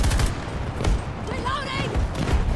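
Rapid bursts of automatic gunfire from a gun in a shooter video game, loud and continuous under a player's voice.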